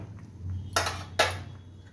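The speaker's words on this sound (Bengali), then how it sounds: "আমি এবার এটাকে সার্ভিং বোলে ঢেলে নেব।" Two sharp metallic clinks of a utensil against a pan or serving bowl stand out over a quiet background as vegetarian matar paneer curry is transferred to a bowl, with no speech.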